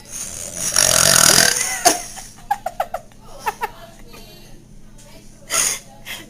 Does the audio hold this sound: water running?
no